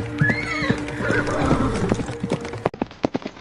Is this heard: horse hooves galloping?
yes